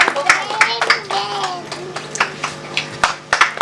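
A crowd at a women's day honour ceremony claps in scattered, uneven bursts while a voice talks over it, with sharp hand claps standing out against the speech.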